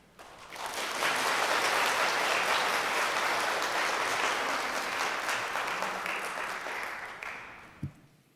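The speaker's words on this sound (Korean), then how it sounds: "여러분들 인사드릴 때 환영의 박수 부탁드리겠습니다" A Korean church congregation at a Sunday worship service gives welcoming applause for newly introduced staff, a full, sustained roomful of clapping that swells, holds for several seconds, then tapers off.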